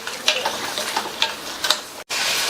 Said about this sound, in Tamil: இப்போ நம்ம சேர்த்துருக்கிற தக்காளி புளி ரெண்டுமே நல்லா எண்ணெயில் வதங்கி